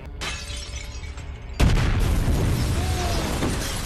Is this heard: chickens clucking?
no